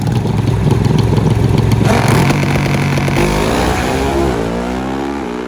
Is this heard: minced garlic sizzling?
no